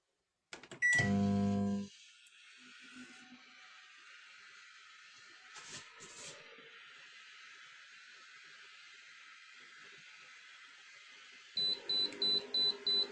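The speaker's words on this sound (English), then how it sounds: "I'm going to switch the microwave on and put the EMF detector near it" A microwave oven switched on with a loud burst of button beeps, then a faint, steady hum as it runs, before a rapid series of electronic beeps near the end.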